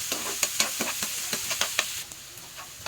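Onions and green chillies fry in a pan for chicken fry, a steady sizzle broken by a quick run of sharp scraping stirs up close, with no talking.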